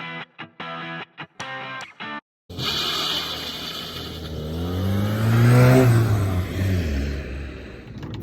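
A 1995 Renault 5 with a 1.4-litre engine pulls away and accelerates, its engine note rising and swelling loudly near the middle before easing off, following a few seconds of short choppy sounds and silence.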